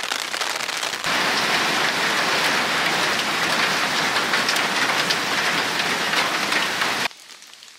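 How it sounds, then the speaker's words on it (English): Light rain falls steadily on a trail camp along the Appalachian Trail, a dense, even patter close by that continues for about six seconds, then cuts abruptly to a quieter background. "Got a little bit of off and on rain last night, a little rain right now."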